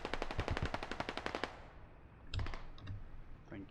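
Automatic gunfire in the military shooter game Squad, a rapid burst of about a dozen sharp shots followed by a pause and a few scattered distant pops.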